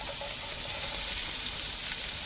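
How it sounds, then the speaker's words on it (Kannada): Grated coconut fries in a pan for a Mangalorean mussels sukka, giving a steady, loud, continuous sizzle and hiss with no pauses. "ಈಗ ಸ್ವಲ್ಪ ಫ್ರೈ ಮಾಡಬೇಕು"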